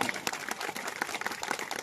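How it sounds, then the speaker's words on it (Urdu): Audience applause for a team at a community programme in Kasoda, a dense patter of many hands clapping at moderate level with a few sharper claps standing out. "کاسودہ اور ایرنڈول کی پوری ٹیم کے لیے ایک بار زوردار تالیاں۔"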